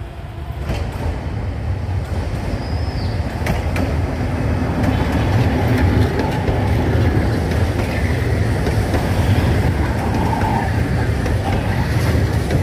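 Tram running through Cleopatra station in Alexandria, a continuous loud rumble of wheels on rail with faint clatter, steady throughout and close by.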